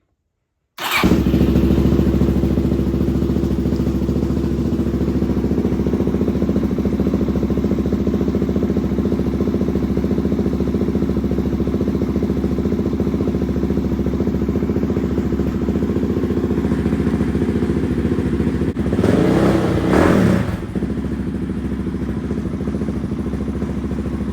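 A Suzuki DRZ400 motorcycle in a garage fires up and settles into a steady, loud idle that runs throughout, with a brief surge partway through and no talking.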